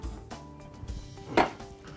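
A microwave cooking cloche is lifted out with a few soft clinks and knocks, ending in one sharper clatter, close by in a kitchen.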